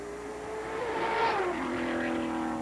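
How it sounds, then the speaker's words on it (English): An IndyCar engine in the pit lane at the 1991 Halifax street-circuit Grand Prix hums and whirs, swelling as it refires, with a tonal pitch that shifts and drops midway through, heard at moderate distance with no talk. "when that engine does refire, John, that is literally an explosion"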